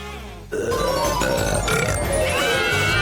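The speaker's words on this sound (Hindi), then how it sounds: "और अब एक असली डकार।" A long, loud burp after drinking a bottle of cola, starting abruptly and rumbling on for about two and a half seconds, close to the listener with no talk.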